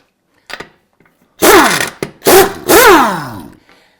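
A power tool zips rusty chrome lug nuts off a wheel of a Pontiac Grand Prix, giving three or four loud, close bursts of whirring with rising and falling pitch and short gaps between them.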